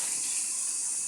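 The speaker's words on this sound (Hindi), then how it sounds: "बारिश बहुत ज़्यादा तेज़ हो रही है" Heavy rain pours down in a steady, dense, hissing wash, loud and unbroken throughout.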